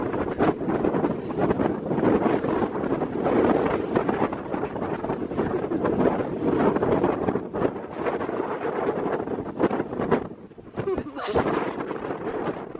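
Strong wind buffets an outdoor microphone in steady, loud gusts for the whole stretch, dropping briefly near the end before roaring back, with a faint low rumble beneath.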